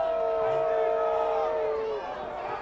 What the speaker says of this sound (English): Is that the first boos we've heard this year?